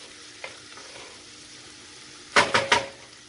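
Onions and mushrooms sauté in a pan, a quiet low sizzle at first, then three quick louder stirring bursts near the end as the vegetables are moved around.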